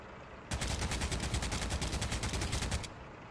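Gunfire in the video game Heroes & Generals: one long, steady burst of rapid automatic shots that starts abruptly, runs for over two seconds at an even rhythm, and then stops, with little else around it.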